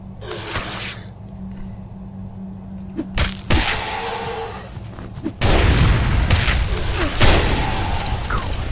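Bombs explode in a video game, a series of booming blasts and crashes that grow louder and denser in the latter half over a low droning background.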